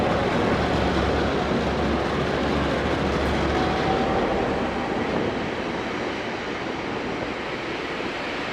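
Two NZR DA class diesel locomotives hauling an excursion train on the Main Trunk Line near National Park, a steady broad rumble with a low engine drone that slowly fades a little, heard from outdoors with no talking.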